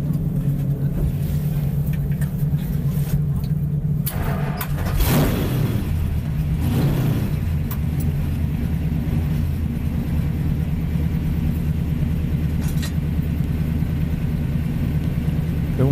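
A Richard Petty NASCAR experience race car engine rumbles continuously and loudly nearby, a deep steady roar with a brief surge as it passes, no voices.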